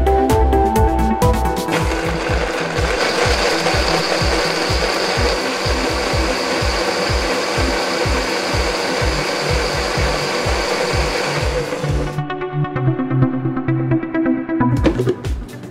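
A blender grinds a mushroom mixture with milk, a loud, close, continuous whirring motor with rhythmic churning that shifts pitch near the end before stopping.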